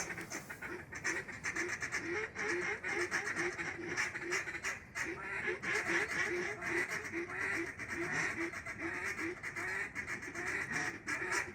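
Dense flock of wild ducks on the opening day of duck season, quacking continuously in overlapping calls, with a few voices talking faintly beneath.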